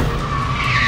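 Car skidding after the handbrake is pulled, a loud, sustained tire squeal and scrub heard up close for about a second.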